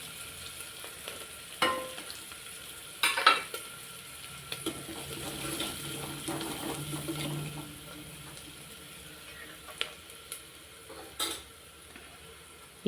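Onions sauté in a pan with chilli powder, turmeric, salt and asafoetida for idli upma, a faint steady sizzle punctuated by sharp clinks and scrapes of a spoon, no speech.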